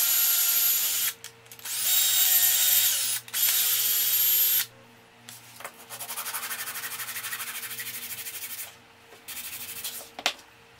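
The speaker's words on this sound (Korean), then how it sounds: "6mm 탭핑 비트로 나사선 작업을 합니다." A power drill with a 6mm tapping bit cuts screw threads into a hole in a marking gauge core, whirring loudly in several separate bursts with short pauses between them.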